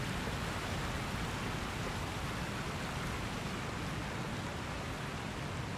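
A waterfall in the Elden Ring video game pours as a dense, steady broadband rush that holds evenly throughout, loud and close with no pauses or talking.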